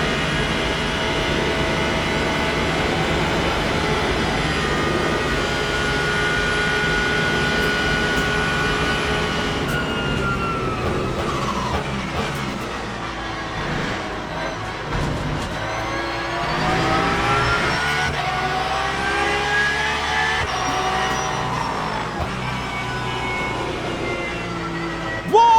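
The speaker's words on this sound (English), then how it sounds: "Both Lexus and Porsche completely flat out here, entering Curva Grande" Lexus and Porsche race cars run flat out into Curva Grande at Monza in the Le Mans Ultimate game, a loud, continuous engine roar whose pitch rises and shifts as the cars sweep through.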